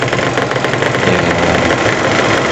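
A washing machine's dryer spin motor runs at close range with a loud, steady whirring hum and a faint rhythmic ticking over the whole stretch.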